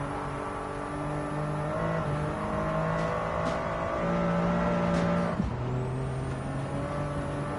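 A car engine in Gran Turismo 7 on a snowy lap holds a steady drone with shifting harmonic tones, easing and rising through gears, with no talk over it.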